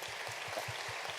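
Applause from an audience at a public health-system event, a steady dense patter of many hands held at a moderate distance, with a faint low rhythmic thump beneath it.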